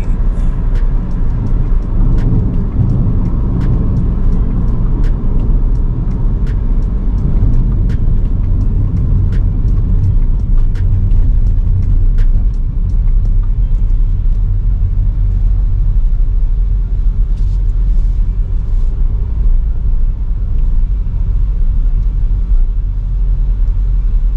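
Heavy road traffic near a toll gate, a loud continuous low rumble of car and bus engines close by, with faint clicks and no break in the noise.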